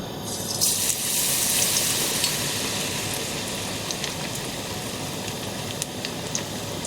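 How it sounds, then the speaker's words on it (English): Battered aubergine slices sizzle in very hot oil, a steady dense hiss with scattered pops and crackles, moderately loud and constant throughout, no talking. "Remember, you want the oil to be really hot when you place them in the oil."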